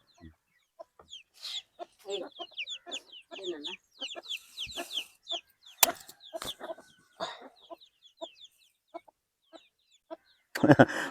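Chickens cluck in short, scattered bursts, some sharper calls mixed in, with a louder rustling burst at the end.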